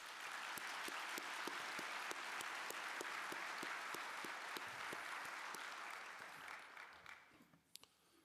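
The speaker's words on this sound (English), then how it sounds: "Would you please join me in a round of applause?" Audience applause at a university winter commencement ceremony: dense, steady clapping with sharp individual claps standing out, sustained for about seven seconds before thinning and fading to a few scattered claps.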